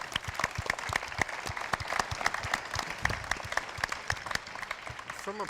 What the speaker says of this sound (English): Let's give Tammy a round of applause.